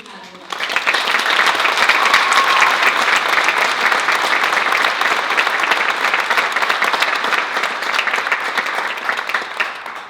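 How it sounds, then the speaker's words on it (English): An audience at a youth awards ceremony applauds a leadership-category nominee, a dense, steady wash of clapping that starts abruptly and holds loud and even, with faint crowd murmur beneath. "Please join me in applauding Chelsea Pemberton for being nominated in the leadership category."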